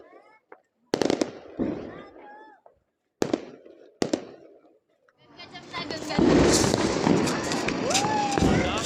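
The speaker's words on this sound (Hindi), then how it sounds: "वातावरण धूम धड़ाकों की आवाज़ के साथ तो गुंजायमान है ही है" Sharp firework bangs and crackling bursts go off in scattered bursts at Diwali night in Sadhaura, then build into a dense, continuous crackle of firecrackers with whistling rockets, fairly close and loud.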